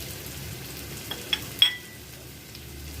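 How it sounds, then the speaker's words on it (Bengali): Cumin, ajwain, panch phoron, coriander, chilli and turmeric sautéed with onion and tomato in a pan, a soft, low sizzle broken by a few sharp spatula clicks and scrapes. "একটু কষিয়ে নেব।"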